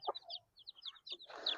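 Chickens on a Pakistani dairy farm, with a rooster and hens, giving quick clucks and chirps that end in a louder squawk, close by.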